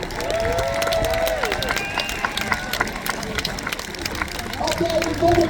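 Spectators at a naval battle show in Peasholm Park, Scarborough cheer and clap steadily in a broad open-air roar, while an amplified voice and whistles sound over the crowd.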